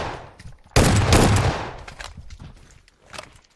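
A rocket launcher fires in a first-person shooter game, one sudden heavy blast that rumbles and decays over a couple of seconds, followed by faint scattered game noises.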